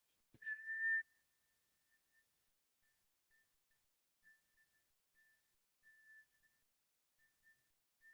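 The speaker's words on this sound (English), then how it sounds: "And then you'll exhale with the whistle." During a breathing meditation, one person whistles on a slow exhale: a clear, pure tone that starts after a soft breath, then continues faintly as a thin, wavering whistle with gaps over several seconds.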